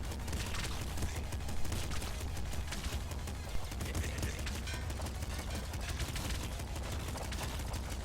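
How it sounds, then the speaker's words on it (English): Machine gun firing in Nuclear Throne, a dense rapid stream of small arcade gunshots running continuously under game music and effects. "This machine gun does not do a lot of damage."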